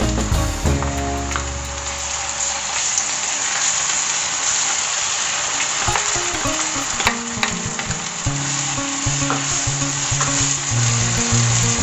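Onions and tomatoes fry in a pan with a loud, steady sizzle throughout, broken now and then by stirring scrapes and clinks of a spoon, with no talking.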